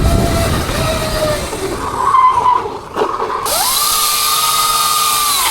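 An electric mini moto maxed out at 23 horsepower and 225 amps whines loudly while ridden off-road. The pitch rises and falls, dips briefly near the middle, then climbs to a steady high drone.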